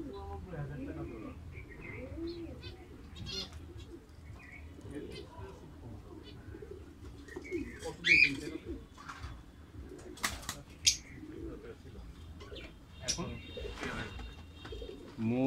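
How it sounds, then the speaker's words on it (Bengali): Domestic local-breed pigeons on a rooftop garden give soft, low cooing with occasional small chirps. The sound is quiet and scattered, and people talk over it throughout. "এগুলো কি দেশি কবুতর, দেশি জাতের কবুতর সব?"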